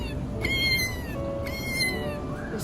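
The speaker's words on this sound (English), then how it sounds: "It's a cat." A cat meows several times in short, rising-and-falling calls over a busy, noisy kitchen background, fairly close and clear, with no talking over it.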